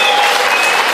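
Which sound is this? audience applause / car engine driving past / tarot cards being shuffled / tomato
audience applause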